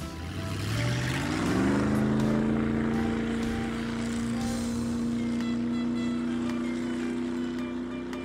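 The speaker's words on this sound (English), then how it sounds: "Motorboat." A motor revs up over the first two seconds, then holds a steady droning engine tone that runs loud and close throughout, like a motorboat engine underway, with no talk.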